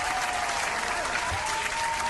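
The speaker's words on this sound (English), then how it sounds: "we got to give a cheer for Helena" A crowd gives continuous, dense applause throughout, steady and even in loudness, with no single voice standing out.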